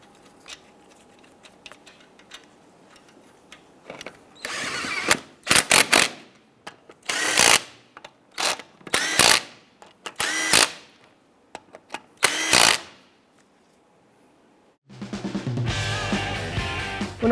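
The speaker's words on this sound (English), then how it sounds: "Go ahead and install your wheel. I'm going to install our lug nuts." A power tool tightens lug nuts on a wheel of a 1995-2001 Ford Explorer, firing in about seven short, loud whirring bursts with quiet gaps between them. A different steady, broadband noise takes over near the end.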